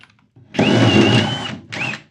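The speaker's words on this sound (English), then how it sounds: "I'm going to drill a series of holes in the side panel that line up with this grill" A power drill with a half-inch spade bit bores holes through a side panel of a belt-grinder stand, lined up with a grill. It gives one loud, close whine lasting about a second, then a shorter burst after a brief pause.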